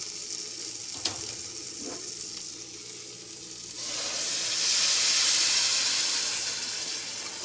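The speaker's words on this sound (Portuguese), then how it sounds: "agora eu vou colocar a água no arroz" A steady hiss and sizzle from a hot rice pot swells as water is poured in, rising to a louder rushing steam before easing slightly.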